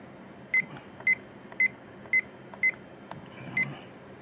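A kitchen timer beeps six times at an even pace, each beep a short, bright, high tone, close and clear over a quiet room with faint handling noise.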